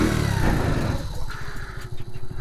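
A Honda C70 Passport motorcycle's small engine runs close by with a steady buzzing drone, its pulsing firing rhythm becoming more distinct as the revs ease off.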